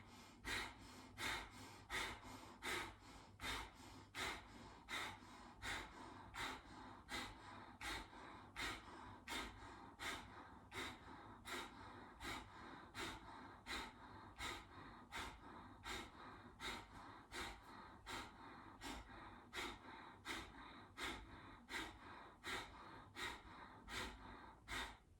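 Rapid, rhythmic breath of fire during a Kundalini yoga session for self esteem, with sharp nasal exhales pulsing steadily at about one per second for the whole stretch, close and fairly soft.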